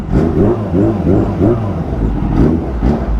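Supercharged Kawasaki Ninja H2 engine accelerating in pulses, its pitch climbing and dropping through several surges, loud and close with brief rushes of wind noise.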